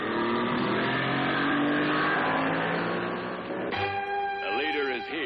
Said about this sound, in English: This is the Chrysler 15-foot runabout with a Chrysler 75 horsepower motor.